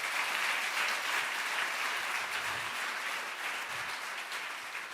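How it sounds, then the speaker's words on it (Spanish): A church congregation gives a loud, sustained round of applause, a thick wash of many hands clapping that eases slightly toward the end. "Dale un aplauso fuerte al Señor."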